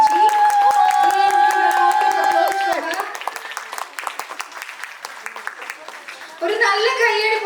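An audience at a devotional dance-drama stage show in Liverpool breaks into a dense round of clapping that starts under a voice on a microphone, thins out, then swells again.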